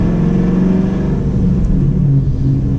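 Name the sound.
2015 Camaro SS engine accelerating on back road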